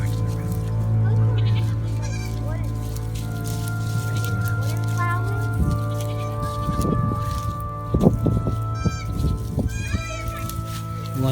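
Several baby goats bleat in short, wavering cries over a steady low hum, with distant voices and outdoor noise in the background.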